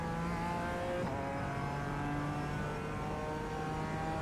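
BMW M4 Evo GT4 race car at Zandvoort in iRacing, engine droning steadily at moderate revs with a brief shift or blip near the start, loud and close from the cockpit with no talk.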